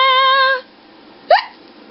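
A single short hiccup pops out after a steady held tone fades, close and fairly loud, with a quiet pause before it and nothing after.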